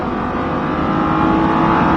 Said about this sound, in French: Allez, on débraque et on accélère à fond.